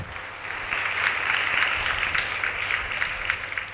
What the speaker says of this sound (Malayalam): അപ്പോൾ ആ കുട്ടിയുടെ പ്രയത്നത്തിന് നമ്മളൊരു നല്ല കയ്യടി കൊടുക്കണം.